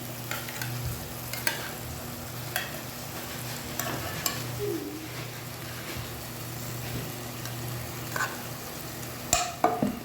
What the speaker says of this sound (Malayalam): പിന്നെ നമുക്കിതിലേക്ക് ഫിഷ് ചേർത്ത് കൊടുക്കാം